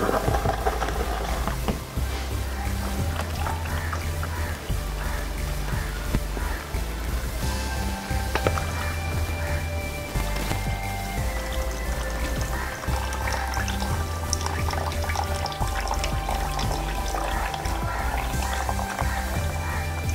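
A liter of lactic acid probiotic liquid pours in a steady continuous stream, with splashing and trickling beneath a busy background of other noise.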